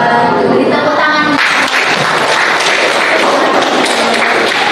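A classroom of students in an Islamic religious education lesson breaks into applause. Dense clapping with scattered thumps and taps follows a brief voice at the start.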